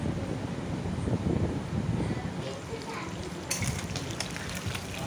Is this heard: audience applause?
no